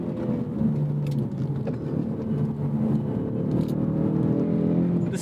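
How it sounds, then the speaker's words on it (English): A 2024 Ford Mustang EcoBoost in track mode sends artificial engine sound into the cabin, heard as a steady, loud, low droning hum that swells slightly over five seconds, with no talking. "you now start getting this piped in noise in track mode. It's not the best sound."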